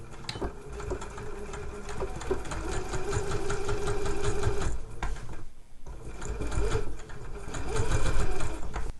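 A sewing machine top-stitches a zip tote bag at a stitch length of 3, running in a steady close whirr with a brief pause midway before resuming.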